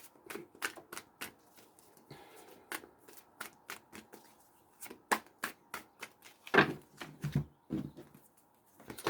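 Tarot cards being shuffled by hand: a long run of crisp, close riffling bursts and slaps in irregular rhythm, loud and dry, with a couple of heavier thumps near the end.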